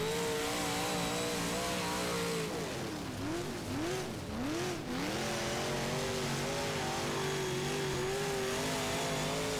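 A modified race car engine in rFactor on a Hagerstown dirt track revs loud and close throughout, its pitch rising and dipping in a few quick swoops as the throttle is worked, then holding a steady high drone.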